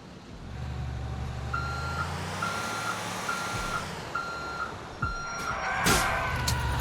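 A truck reverses in Grand Theft Auto IV, its backup alarm sounding five evenly spaced beeps over a low, steady engine rumble, followed by a sharp hiss and a clatter near the end.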